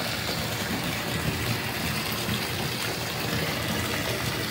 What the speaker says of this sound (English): Let it fill up and then I'm going to get in.